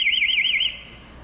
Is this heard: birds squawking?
no